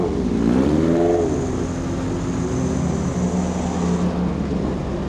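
Race cars pull away together on the Charade circuit, a loud, dense engine roar with one rising rev near the start settling into a sustained steady drone.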